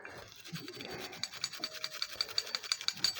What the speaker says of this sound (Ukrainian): Направляючи на рамочки теж чистимо, там завжди бруд.